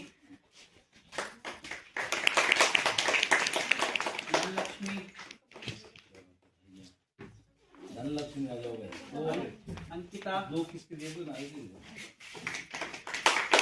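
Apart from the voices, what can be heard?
people clapping hands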